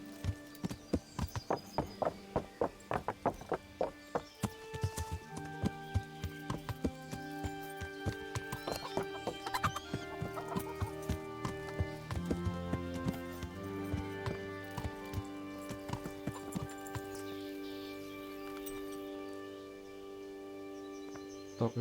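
Horse hooves clip-clop steadily in the medieval video game Kingdom Come: Deliverance, a regular rhythm of close hoofbeats with an occasional whinny over a game music bed.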